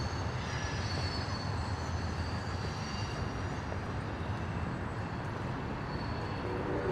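An Amtrak passenger train rumbles past in a dense, continuous roar with a thin high wheel whine on top, steady and fairly loud across the whole stretch, with no talk.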